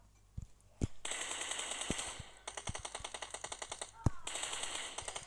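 Gunfire in the mobile shooter PUBG Mobile, with a few single shots and then fast automatic bursts of many rounds in bunched volleys, loud and close.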